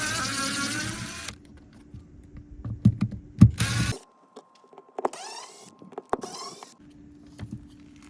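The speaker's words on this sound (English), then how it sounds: "we're going to take off these 4 screws so that we can release this from the side of the camper" A powered screwdriver backs screws out of an RV power cord inlet on the side of a Grand Design Solitude camper, with short whirring motor bursts broken by pauses, clicks and handling noises, heard close up.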